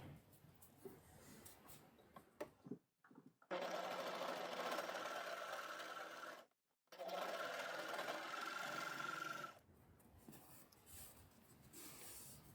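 An overlocker with its blade disengaged sews a long stitch. It runs in two fast buzzing bursts of about three seconds each, separated by a brief pause, with quiet handling sounds before and after.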